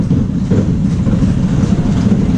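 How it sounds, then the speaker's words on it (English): The Runaway Train roller coaster at Billing Aquadrome during a ride, a loud continuous low rumble of wheels on track with a faint rhythmic clatter and no talk. "Bit of on-ride footage there then from the roller coaster what they've got here at Billing Aquadrome"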